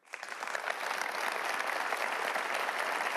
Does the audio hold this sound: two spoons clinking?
no